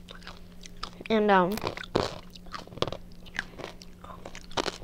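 Crunchy dried meat gets bitten and chewed up close, with a loud crisp snap followed by scattered crunching between bursts of talking.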